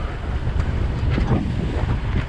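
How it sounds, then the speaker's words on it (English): Strong wind buffets a boat out on shallow, choppy ocean water near Shediac, a loud, steady roar with gusty rumble and no talk. "Plenty of wind."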